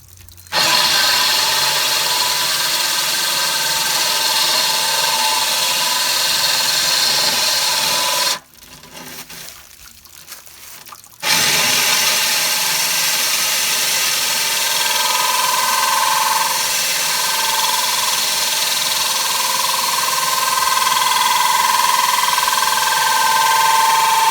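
A power drill grinds steadily through aquarium glass for a long stretch at full speed, pausing briefly midway, then resuming with a rising whine.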